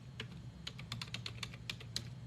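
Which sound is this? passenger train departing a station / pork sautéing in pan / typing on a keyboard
typing on a keyboard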